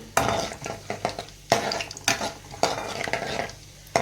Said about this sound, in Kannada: ಇದಕ್ಕೆ ಇಲ್ಲೇನು ಸ್ವಲ್ಪ ರೆಡಿ ಮಾಡಿಟ್ಟಿರೋ ಸ್ವಲ್ಪ ಮಸಾಲ ಐಟಮ್ಸ್ನ ಹಾಕ್ತಾಯಿದ್ದೀನಿ. ಒಂದು ಚೆನ್ನಾಗಿ ಸಾಟೆ ಮಾಡ್ಕೊಳ್ಳಿ